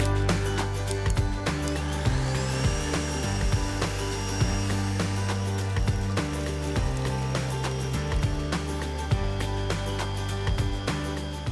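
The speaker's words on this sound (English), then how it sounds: "I've also turned down the speed on my mixer" An electric mixer whisks eggs at a turned-down speed, producing a steady motor whine with a repeating mechanical clicking and rattling rhythm, close and continuous.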